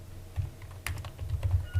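Quick bursts of key presses on a computer keyboard, close and crisp, tapping out a short word in an irregular rhythm with no talk.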